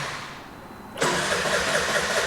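A Y2K-era Vespa ET4 scooter's starter motor spins on a start-button press. A quiet lull gives way to an abrupt, steady whirring roar about a second in.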